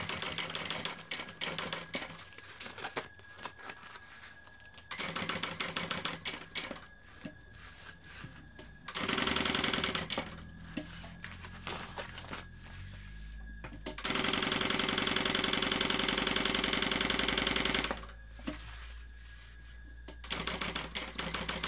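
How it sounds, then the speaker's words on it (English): A sewing machine stitches down the bottom of a BeHip 2.0 bag in repeated bursts of rapid mechanical whirring and clatter, separated by short quiet pauses, heard close and alone. "we're going to come in and stitch this down"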